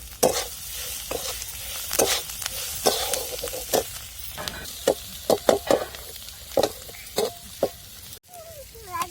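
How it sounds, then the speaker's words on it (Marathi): Onion being sautéed in a spiced masala for a potato dish, with repeated scraping stir strokes and a soft sizzle underneath, steady and close, without talk. "आता आपण कांदा मसाल्यामध्ये टाकून घेऊ आणि चांगला परतून देऊ"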